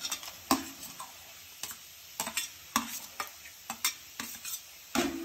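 Cashews, whole spices and ginger-garlic sauté in hot oil under a low sizzle while a spoon scrapes and stirs in sharp intermittent strokes, close up with no voice.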